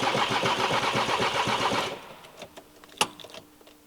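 The engine of a VW T5 camper cranks on a test run after a timing belt repair, a rapid rhythmic churning of the starter for about two seconds that cuts off without firing, followed by faint clicks and a sharp knock.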